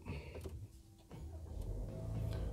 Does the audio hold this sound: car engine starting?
yes